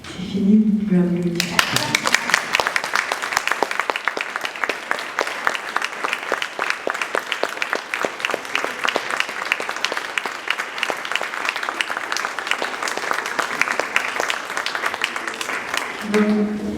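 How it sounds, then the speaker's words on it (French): Audience applauding at the end of a clown show, a dense, steady round of clapping that starts abruptly after brief talk and carries on evenly before voices return at the close. "C'est fini, vous pouvez applaudir."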